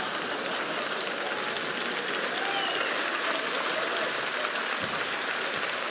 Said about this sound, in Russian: Да все, хватит хлопать, что, праздник, что ли?